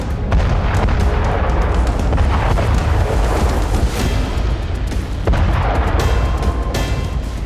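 Continuous heavy rumbling and booming of artillery shelling in Sumy, Ukraine, loud and dense throughout with repeated thuds blending into a constant roar.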